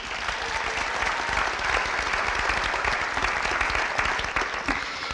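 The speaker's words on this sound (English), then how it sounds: "Can we give them a round of applause?" Graduation audience applauding the teachers at the East Hartford CIBA commencement, a dense, steady wash of clapping from a large crowd that holds evenly for the full stretch with no talk over it.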